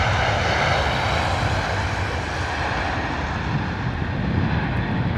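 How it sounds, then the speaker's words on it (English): A British Airways Airbus A320 lands at London Heathrow in wet, windy weather, its engines making a loud, continuous broadband roar that holds steady at close range throughout, with no talk. "British Airways A320 arriving there."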